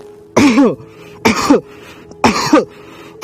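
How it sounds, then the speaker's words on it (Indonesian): Three deliberate forceful coughs during a proning breathing exercise for COVID-19 recovery, each a harsh close burst with a short tail, separated by brief pauses. "kemudian kita sengaja batukkan."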